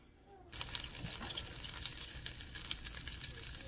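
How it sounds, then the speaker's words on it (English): Food sizzles loudly in a hot pan, a steady crackling hiss that starts abruptly and continues close up. "Now it's nice and hot and sizzling."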